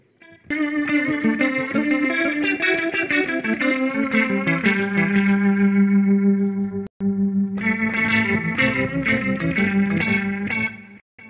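Electric guitar played through a HeadRush Gigboard with reverb switched on, sustained chords ringing with a wide reverberant wash and a brief dropout near the end before the strumming resumes; no voices.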